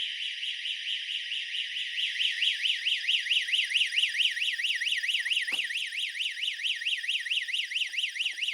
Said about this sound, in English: he unknowingly walked through a security alarm, and it triggered immediately upon his entry